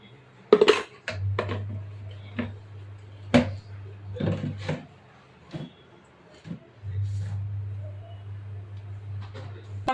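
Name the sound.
shaking spicy snacks in a closed glass jar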